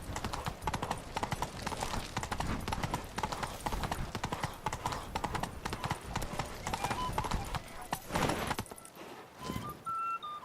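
Horse hooves galloping in The Witcher 3: Wild Hunt, Beast of Toussaint, a rapid steady clip-clop running under game music and crowd noise, moderately loud, easing off at the end.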